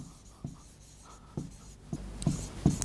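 Pen or marker writing out a maths solution for a parabola tangent problem, with several short scratchy strokes and taps that grow louder toward the end, close and alone.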